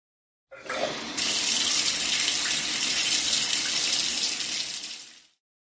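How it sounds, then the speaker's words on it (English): Shower water starts running after the knob is turned, a steady broadband hiss that begins abruptly with a brief splash and continues for several seconds before stopping. "By turning the knob, he turns the water on."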